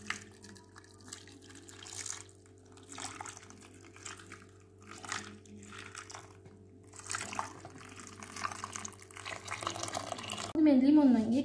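Hot boiling water is poured over washed lemons in a kitchen, making a steady splashing, trickling wash that rises and falls over several seconds, with a voice faintly in the background.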